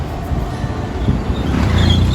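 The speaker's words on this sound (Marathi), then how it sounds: "नागपूरची ट्राफिक, ट्रॅफिक हम भी परेशान तुम भी परेशान" Busy city road traffic in Nagpur rumbles close by as a loud, steady low-frequency drone of passing vehicles, building slightly toward the end, with no voices heard.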